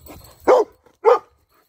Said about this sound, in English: You bark too loud.